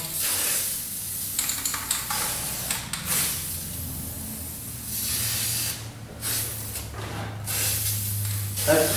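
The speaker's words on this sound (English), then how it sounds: "I just figured I'll just spray the whole tire and no need to tape off" Black spray paint hisses from an aerosol can onto a bike tire in long, close bursts with short pauses and a few clicks between them.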